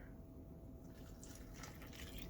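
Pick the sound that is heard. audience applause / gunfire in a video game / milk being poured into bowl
milk being poured into bowl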